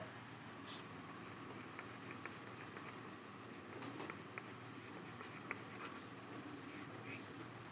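A pen writing on paper, answers and a heading for a chemistry homework page, with faint, soft scratching strokes in irregular bursts against a quiet room.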